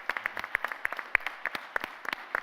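Clapping from a small audience at a panel discussion in Dubai, scattered individual claps in an uneven rhythm, fairly close and moderately loud, with no talk over it.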